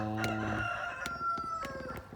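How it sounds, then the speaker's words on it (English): A rooster crows once in the background, a drawn-out, slightly distant call over faint outdoor ambience. "You could hear the rooster in the background at my neighbor's house."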